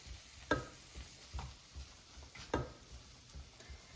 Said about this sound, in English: And now let's mix it so the green beans are evenly coated with butter and seasonings.